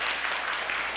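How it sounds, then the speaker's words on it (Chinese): A church service audience claps together to welcome a guest, giving a dense, even burst of applause that fills the whole moment. "我们拍手欢迎他。"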